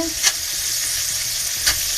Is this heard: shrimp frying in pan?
yes